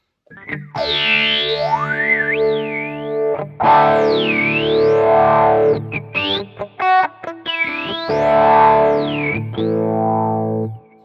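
A sustained electric guitar tone swept by a Quad Cortex phaser, its resonant notch whooshing up and down through chords and held notes, loud and alone.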